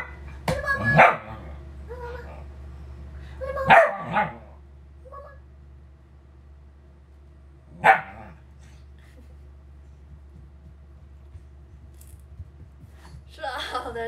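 Dogs at a pet shop give a handful of short, separate barks and yips spread across a mostly quiet stretch, fairly close, with a faint steady hum underneath.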